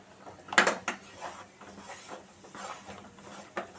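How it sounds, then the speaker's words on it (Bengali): A chhana sandesh mixture gets stirred in a pan, giving sporadic scraping and clinking of a utensil against metal, with one sharper knock early on and softer irregular scrapes after, fairly quiet. "ঘুরিয়ে ফিরিয়ে নাড়তে থাকবো।"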